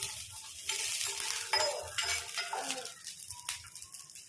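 Around ten garlic cloves frying in oil in a pan for a pirandai chutney, a steady hiss with the scrape and clink of a spoon stirring through it, no voices.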